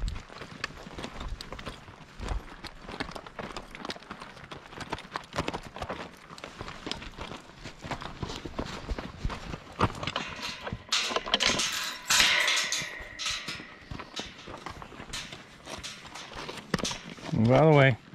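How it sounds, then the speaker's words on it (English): Horses on a Montana ranch walk about as they are caught and loaded for a trailer, hooves clopping in an irregular, fairly close patter with outdoor noise, some scuffing and a few louder moments near the end. "I'm gonna catch these horses and put them in the trailer"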